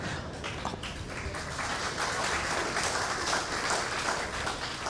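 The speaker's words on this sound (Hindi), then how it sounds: "किसके लिए ताली बजा रहे हैं?" Scattered applause from a seminar audience at a motivational talk in Mumbai, a steady, moderately loud wash of clapping that holds evenly throughout with no voices over it.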